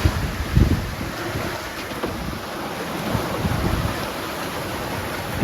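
Wind rushes steadily across a sailboat under way at sea, a continuous close buffeting roar against the microphone with low gusty thumps and water noise underneath, and no talking.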